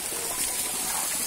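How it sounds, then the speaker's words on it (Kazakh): Spring water welling up from underground at Tamshybulak in Kapal, a steady close bubbling, trickling flow that runs evenly throughout with no voices. "Мына өзінен өзі жердің астынан ағып жатыр"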